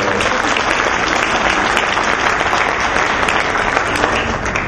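A large audience at a motivational talk in Kuwait breaks into applause, a dense, loud, continuous roar of clapping that holds steady throughout with no speech over it.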